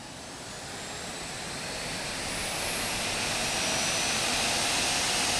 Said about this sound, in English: you can make like a jet engine sound of this as well.